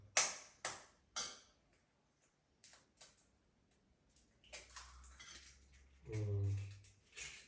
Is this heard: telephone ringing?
no